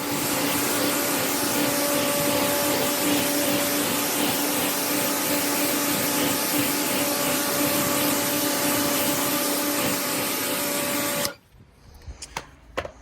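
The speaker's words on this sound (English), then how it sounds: "get the pressure washer on it and blast it all off" Pressure washer spraying sand off newly laid herringbone pavers, a loud steady hissing roar held for about eleven seconds before cutting off abruptly, followed by a few faint clatters.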